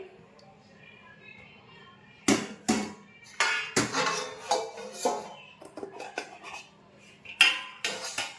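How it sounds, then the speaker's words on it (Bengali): Sour dal made with mangoes stirred in a metal pot, a series of loud, close clanks and scrapes of a ladle against the rim repeating irregularly, with quiet background sounds between. "নাড়া দিয়ে দেখো টক ডাল করেছি গাছের আম দিয়ে"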